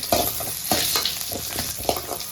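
Shallots, curry leaves and dried red chillies fry in hot oil in a pan, a steady sizzle broken by repeated scraping stirs, close and fairly loud with no voices.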